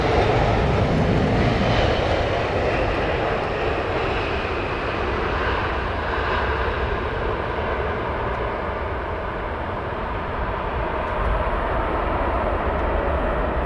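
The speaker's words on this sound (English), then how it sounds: "Next big inbounder, American 777." An American Airlines Boeing 777 on approach to Heathrow's runway 27R in a crosswind, its jet engines making a loud, steady roar that fills the whole stretch without letting up.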